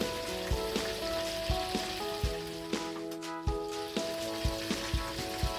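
Pechay cooks in a covered pan as part of a pork kare-kare dish, giving a steady close sizzle and frying hiss punctuated by regular soft knocks and ticks. Nobody speaks.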